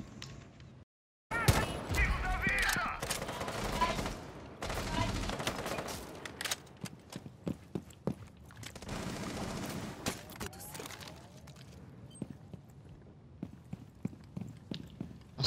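Gunfire in a tactical shooter match, bursts of rapid shots fired at an opponent, loud clustered volleys early on thinning into scattered single cracks and faint footsteps later.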